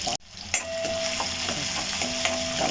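Onion, garlic and cumin frying in hot oil in a pan, a steady loud sizzle broken by a few clinks and scrapes of a stirring spoon, with no talking.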